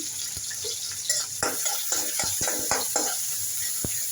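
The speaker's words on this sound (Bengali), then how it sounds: "এই তো এখন ভাজি বসাইতেছি" Vegetable bhaji with green chillies and onion frying in a pan, a steady sizzle broken by several sharp scrapes and clinks of stirring, close and moderately quiet.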